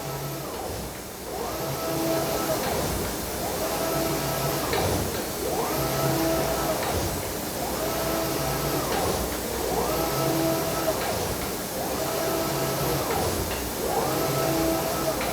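A garment printing machine prints the back part of a garment in a factory, running in a steady repeating mechanical cycle about every two seconds. The sound is loud, continuous and close.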